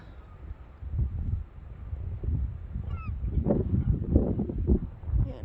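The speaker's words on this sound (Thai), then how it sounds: "เป็นเป็ดนะคะทุกคน" Waterfowl honk and call a few times at a distance over low wind rumble, with some scattered louder calls near the end.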